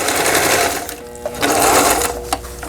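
A Riccar N530 household sewing machine runs close and loud, its rapid needle stitching dipping and surging in speed over a few seconds; no talking.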